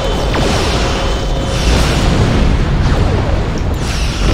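Torpedo impacts striking a ship in the space game Star Trek Online, a loud, continuous rumble of booming explosions and mechanical bursts with faint whooshes.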